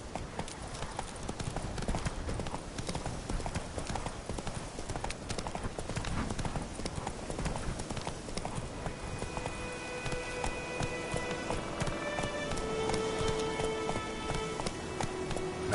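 Roach, a horse in The Witcher 3, galloping with rapid, continuous hoofbeats. The pounding clip-clop is dense and fairly close, with game sound effects layered over it and no voices.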